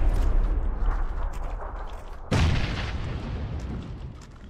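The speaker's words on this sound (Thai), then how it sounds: "ระเบิดไปอีกระเบิดไปอีกระเบิดไปอีก" Video game explosions boom heavily one after another, a deep blast that rumbles and fades, then a second sharp burst that decays slowly, loud and close.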